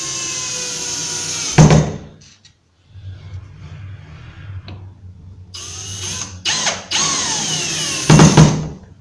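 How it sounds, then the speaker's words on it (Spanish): Power drill driving screws to fix straight cup hinges onto melamine kitchen cabinet doors, two loud whirring bursts separated by quieter handling noise, alone with no talk. "Las sujeto firmemente con un par de tornillos."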